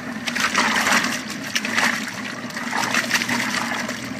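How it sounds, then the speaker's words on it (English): A separate washing machine churns detailing mitts and rags, with sloshing water and swishing surges that rise and fall steadily at close range. "I wash this chemical stuff in a separate washer."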